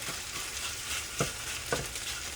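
Rice noodles with shrimp and vegetables stir-frying in high-heat oil give a steady, close sizzle, broken by two brief scraping stirs of a utensil in the pan.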